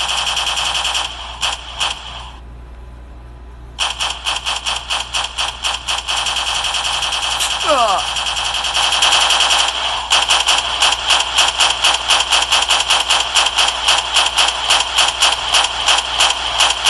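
Rapid sniper and automatic gunfire during a staged hostage-rescue siege operation: dense bursts of sharp, loud shots in steady repeated volleys with brief pauses, continuing without talk.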